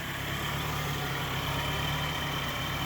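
A 1956 Ford tractor engine idles while warming up, a steady, continuous low rumble close by with no change in pace throughout.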